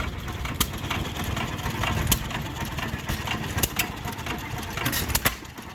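Old engines running at a small backyard tractor show at Lime Valley form a steady mid-pitched mechanical drone, with faint clicks and light knocks scattered through it. Nobody speaks.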